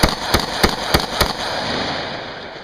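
Rifle fire with tracer rounds at night at an outdoor boot camp in Texas: five sharp, evenly spaced shots ring out close by, then a long fading echo.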